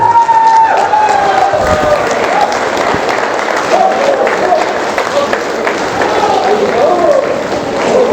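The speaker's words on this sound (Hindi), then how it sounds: "अपने लिए एक बार जोरदार तालियां बजा करके बताइए आपको चाहिए" A large audience at a motivational talk bursts into loud, sustained applause with cheering, filling the whole stretch at a steady level without easing off.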